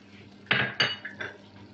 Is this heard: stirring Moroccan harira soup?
yes